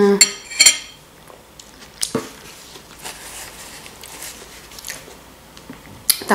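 A spoon scrapes and clinks against a bowl of salad with soy sauce, with sharp metallic taps at a few moments and quiet chewing and munching close up in between.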